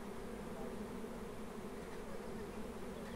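A swarm of honeybees buzzes steadily and densely, filling the air continuously with a soft even drone and no pauses.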